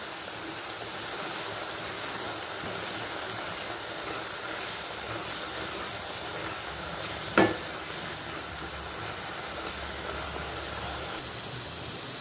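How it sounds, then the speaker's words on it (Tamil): Carrot halwa cooking in a pan with milk and sugar, stirred steadily, gives a soft continuous sizzling bubble with one brief clatter of the spoon midway, close and fairly quiet, with no voices. "நல்லா கிளறி விட்டுகிட்டே இருங்க"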